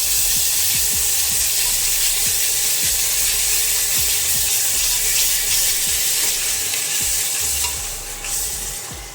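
Onions and green chillies with coriander powder stirred in a pan for a black chickpea and potato curry, a dense continuous sizzle with regular scraping strokes of a spoon, close and loud throughout.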